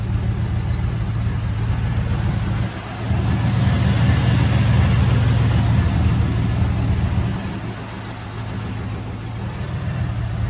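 A 1974 International Scout engine idles steadily and evenly up close, a smooth low rumble that dips briefly in level partway through, with no voices.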